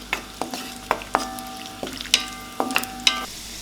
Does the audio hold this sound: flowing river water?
no